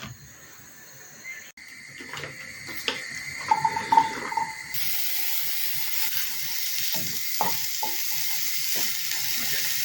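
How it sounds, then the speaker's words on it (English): Cubes of pancetta sizzle and fry in a pan without added oil, a steady soft crackle joined by a few clinks and brief running-water sounds nearby. "These bacon cubes we're going to roast in a pan until they're nice and crispy."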